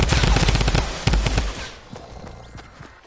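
Pistol fire in the Fortnite video game: a rapid, loud burst of shots packed together for about a second and a half, then a few scattered fainter cracks as the sound fades.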